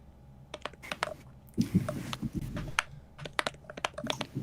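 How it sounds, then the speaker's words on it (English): Quick, light clicks of typing on a computer keyboard come in uneven bursts at a fairly faint, close level, with a short rustle partway through. "You're typing it into the public chat, by the way."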